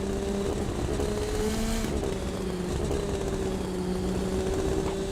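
An Indy NXT race car's engine burbles and drones off throttle during a qualifying session at Portland, a sustained loud mechanical tone with shifting pitch and no talk over it.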